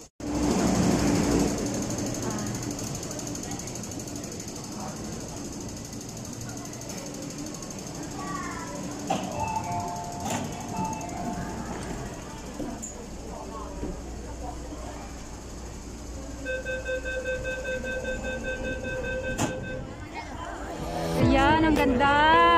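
A train pulls into a station at Sha Tin, Hong Kong, with a steady loud mechanical rumble and whine throughout, brief tonal chimes and beeps over it, and a swell of noise near the end.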